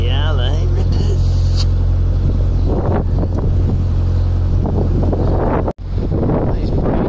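Strong wind buffets the microphone on a narrowboat cruising a canal out of Chester Basin near Beeston Castle, a loud continuous low roar with a brief dropout near the end while someone talks over it.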